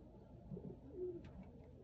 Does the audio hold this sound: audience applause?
no